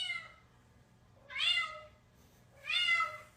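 A cat lets out two drawn-out meows, each rising and falling, spaced about a second apart against a quiet background.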